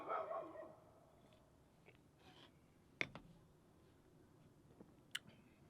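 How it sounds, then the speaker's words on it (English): Distant dogs bark faintly outdoors, a muffled burst at the start and then a few scattered sharp yips, heard alone with no talk. "I want to bet these dogs barking right now is because of those deer"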